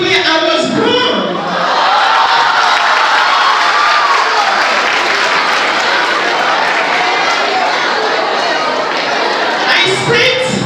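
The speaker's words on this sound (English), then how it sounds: "This is the first time I will get an applause for seeing where I was born." Sustained audience applause from a large crowd fills nearly the whole stretch, loud and dense, with a brief voice at the start and the clapping tapering near the end.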